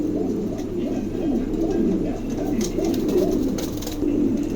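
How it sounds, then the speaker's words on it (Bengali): A king pigeon coos in a steady series of low, rolling calls, close and fairly loud, repeating throughout with no pause. "চমৎকার একটা কবুতর, ভালো লাগলে অবশ্যই সংগ্রহ করতে পারেন।"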